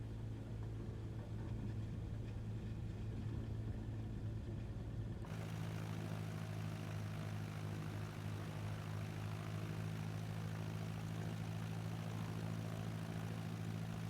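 A propeller airplane in a flight simulator game takes off in a crosswind from Lydd airport, its engine a steady loud drone that shifts and thickens partway through as power comes up, continuous with no talk.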